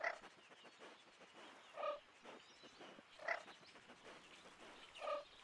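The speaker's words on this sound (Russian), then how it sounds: "Он нюхает, как собака-ищейка" An Oryctodromeus dinosaur in the video game Beasts of Bermuda sniffs in four short, quiet bursts spaced about a second and a half apart, over faint background ambience.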